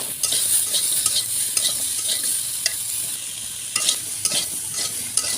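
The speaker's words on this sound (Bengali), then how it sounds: "এগুলো ভালো মতো নাড়াচাড়া করে কিছুক্ষণ ভেজে নেব" Ginger and green chillies sizzle steadily in a hot pan while a utensil stirs and scrapes in repeated strokes, close and continuous with no talking.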